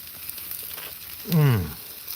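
Morel mushrooms sizzle on a Blackstone griddle, a soft frying hiss that swells into a short, louder burst of sizzling and then fades, close by with no talk.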